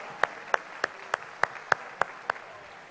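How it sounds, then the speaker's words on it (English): Slow, evenly spaced claps, about eight in a row, ring out at a Rotary Youth Exchange presentation event, moderately near and fairly quiet over a low room hush. "Please give these people a big round of applause for this wonderful program."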